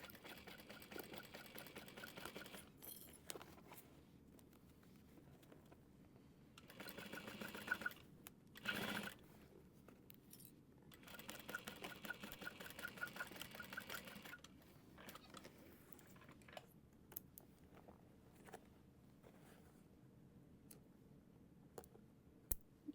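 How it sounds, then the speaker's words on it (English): A sewing machine stitches a top seam at a half-inch allowance in short, quiet bursts of rapid whirring, broken by pauses and soft clicks, with no voices. "we're gonna sew at a 1/2 inch seam allowance just across that top seam"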